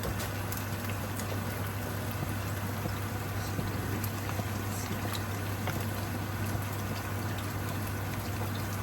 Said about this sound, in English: Just put about 1 glass of water.